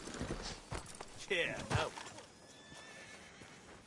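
A horse whinnies loudly in a Red Dead Redemption 2 town outside a sheriff's office, with clip-clopping hooves and brief muffled speech around it, then quieter ambience.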